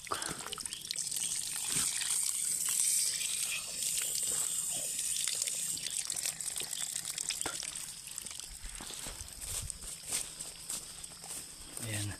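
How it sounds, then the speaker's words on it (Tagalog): Fresh mountain water trickling and splashing steadily close by, with a bright hissing flow and occasional clicks and knocks underneath. "Ito po, fresh na fresh na tubig galing sa bundok."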